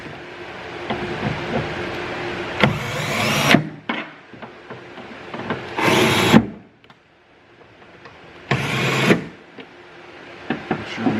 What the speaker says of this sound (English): So we'll go ahead and screw these back in.